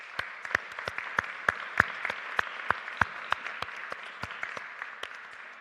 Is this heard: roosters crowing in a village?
no